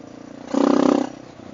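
A big-bore Honda XR650L motorcycle engine swells in a short, close burst of revving, its pulsing thump rising and then falling back to a steady idle-like rumble, with no speech.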